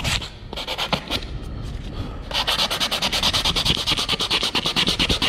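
A wooden picture frame is sanded by hand under moderately hard pressure, first in slower uneven scrapes, then in quick steady back-and-forth strokes that grow louder and more regular.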